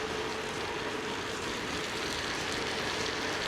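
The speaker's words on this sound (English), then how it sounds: "it's raining" Steady rain falls outdoors around a cyclist on a budget bike ride, a constant broadband hiss with no breaks, close to the microphone and with no voices.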